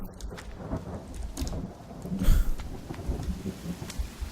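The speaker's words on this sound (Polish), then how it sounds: "I deszcz zaczął padać od tego pierdolenia." Rain pours steadily in the video game The Forest while a deep roll of thunder swells midway, rumbling for a couple of seconds before fading back into the downpour.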